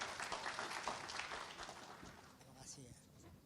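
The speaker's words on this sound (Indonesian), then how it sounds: "Mari kita sambut dengan memberikan tepuk tangan yang paling meriah." Applause from an audience at an academic seminar, a dense patter of many hands clapping at moderate volume that slowly fades, with speech mixed in.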